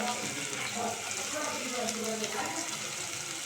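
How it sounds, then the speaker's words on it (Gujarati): Gravy poured into hot oil sizzles and sputters for a Bhangara fish curry, a dense, even hiss that holds steady and close throughout with no pause. "હવે આ ગ્રેવી જે છે તે આપણે એડ કરીએ છીએ અને તેલમાં થોડી વાર એને સાંતળવા દઈએ."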